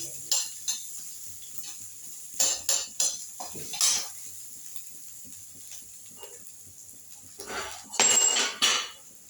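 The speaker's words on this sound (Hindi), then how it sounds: "जो अदरक का टुकड़ा बड़ा रहेंगे इसको ऐसे कलछुल से काट दीजिए" Metal ladle knocking and scraping through chunks of ginger in a kitchen pot, a series of sharp clinks and taps in uneven bursts, fairly close with quiet gaps between.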